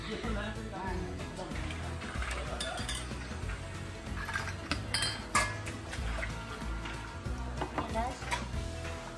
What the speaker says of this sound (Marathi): चला तर मी सगळी भांडी घासून घेते.